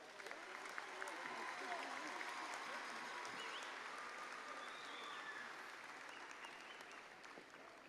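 A graduation ceremony crowd gives a steady round of applause for newly named MBA graduates, a dense wash of many hands clapping that holds for several seconds and fades slightly toward the end, heard from a distance.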